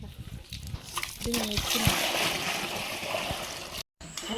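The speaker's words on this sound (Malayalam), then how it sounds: "അമ്മ ഇവിടുന്ന് വെള്ളമൊക്കെ കോരിയിട്ടതാ ചെറിയ ബക്കറ്റിലും വലിയ ബക്കറ്റിലായിട്ട് ആക്കി കൊടുക്കുന്നുണ്ട്" Well water is poured from one vessel into small and big buckets, a loud continuous splashing gush lasting several seconds after a few knocks, with people talking nearby.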